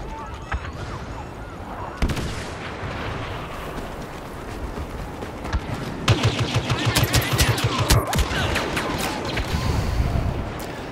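Gunfire in a Star Wars Battlefront match, rapid blaster-like shots and bursts with occasional heavier blasts, growing denser toward the end, mixed with game ambience and someone talking over it.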